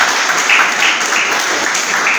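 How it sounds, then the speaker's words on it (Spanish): A church congregation breaks into sustained applause, dense steady clapping filling the room throughout. "Denle un aplauso al Señor"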